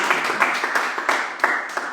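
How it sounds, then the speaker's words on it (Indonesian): A church congregation claps together in a brief burst of applause, a close, bright wash of many hands with a few sharper claps standing out. "Beri tepuk tangan."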